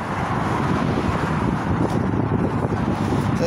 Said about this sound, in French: Il y a beaucoup de vent aujourd'hui, donc j'espère que ça affectera pas trop le son.